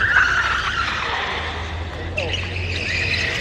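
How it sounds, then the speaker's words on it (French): Tires squeal on a yellow Ferrari 488 in the streets of Monaco, a sustained screech shifting in pitch over low engine rumble, with a voice talking over it. "Ça couine, ça couine."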